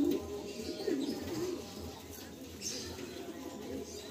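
Pigeon cooing close by in a quiet indoor or yard setting, a few soft throaty coos around the first second and a half, the bird being an eye-quality fancy flying pigeon held before release; faint low rumble beneath.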